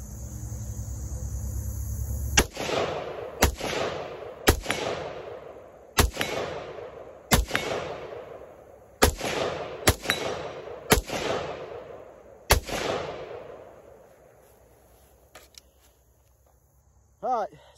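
Nine sharp rifle shots from a BRN180 upper firing 5.56 brass ammunition ring out outdoors at irregular intervals of about a second, each a loud crack trailing into a long echoing decay, with insects chirping in the background.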